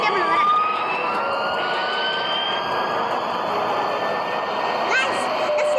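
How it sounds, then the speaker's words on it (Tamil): Steady broad jet engine roar of an airplane taking off, loud and continuous throughout, with a rising whine running beneath it and faint voices in the background. "the flight gonna fly now"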